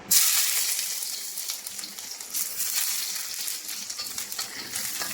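Olive oil heated to smoking in a hot pan, sizzling and spattering loudly with a bright hiss and rapid crackles that surge at the start and stay steady, close up, no voices.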